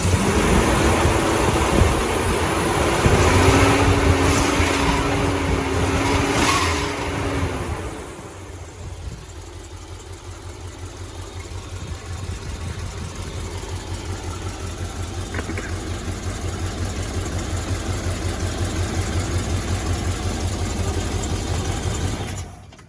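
A Dodge D100 barn find pickup engine runs steadily close by after 25 years sitting, a loud continuous rumble that surges at first, then settles into an even idle for the rest of the stretch.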